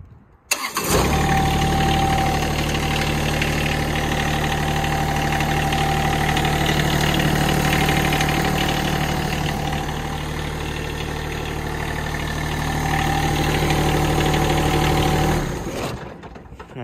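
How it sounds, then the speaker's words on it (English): A Yanmar diesel engine in a 2016 John Deere X758 garden tractor with about 300 hours catches and settles into a smooth, steady idle, close and continuous before cutting off at the end. "As you see, the Yanmar engine is just awesome. Sounds like smooth."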